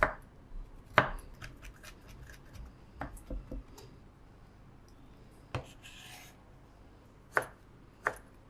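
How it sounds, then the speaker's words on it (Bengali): A knife chops about an inch of ginger finely on a board. Uneven knife strikes and short scraping sounds come close by, some in quick bursts and others after pauses, with no talking. "সেই আদাটা কুচি করে দিব।"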